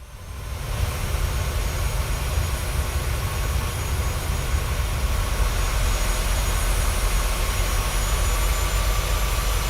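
Airliner jet engines spooling up in Microsoft Flight Simulator, a steady loud roar and whine with a low rumble that rises in the first second and then holds constant, no talking.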